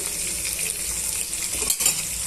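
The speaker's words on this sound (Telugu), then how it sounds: "ఇప్పుడు ఇందులోనే సన్నగా తరి తురుము పెట్టుకున్న చిక్కుడుగాయల్ని యాడ్ చేసుకోవాలండి" Finely chopped broad beans tossed into a hot oiled pan, producing a continuous close sizzle with brief stirring scrapes and a light clink near the end, no speech.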